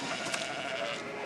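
A sheep bleats on a farm, a short wavering cry heard at moderate distance over a steady outdoor background.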